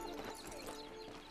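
Horse hooves clip-clop in Red Dead Redemption Online, a steady rhythmic clatter of a few steps close by under a dense wash of game ambience and music, with faint speech.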